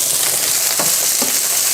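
Shrimp fry in a pan over medium-high heat for linguine, a steady close sizzle with a couple of brief stirring scrapes.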